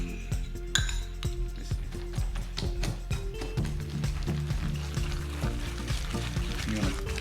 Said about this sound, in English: You're going to mash this all together.